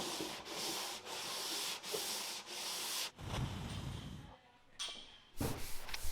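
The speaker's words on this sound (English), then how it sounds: "Everybody's sanding their life away today." Hand sanding of truck bodywork, the hood and tailgate of John Wayne's original Ford truck being block sanded with 320 grit. Long steady rasping strokes come in a loud, close rhythm, broken by brief pauses.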